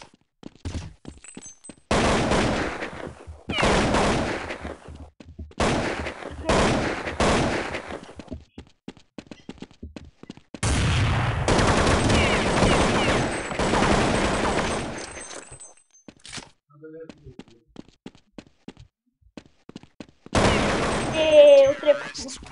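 Rapid volleys of Counter-Strike 1.6 gunfire crackle in irregular bursts of automatic and single shots, loud and close, separated by short lulls, with players' voices talking over parts of the action.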